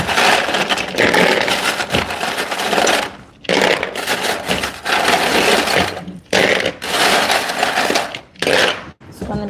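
Loud rattling crunch of ice cubes tumbling from a fridge dispenser in several bursts, with short pauses between, close by.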